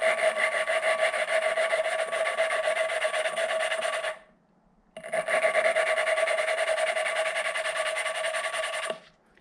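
Lapping compound scraping as a Honda CB500/550 motorcycle valve is rotated back and forth on its seat, a steady gritty rasping in two long bursts separated by a short pause.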